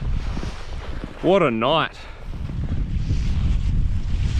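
Strong winter storm wind buffets the microphone in a steady broadband roar across a snowy tussock landscape, with someone speaking briefly over it.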